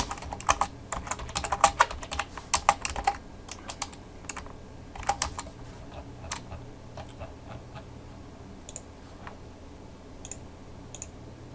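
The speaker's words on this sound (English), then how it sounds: "So we'll just have to type it in manually." Someone types by hand on a computer keyboard, with close, crisp key clicks coming in quick irregular bursts at first, then thinning to sparser, fainter taps toward the end.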